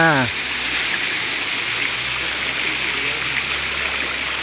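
A waterfall roars with steady, dense rushing water, loud and close throughout, with a brief voice at the very start.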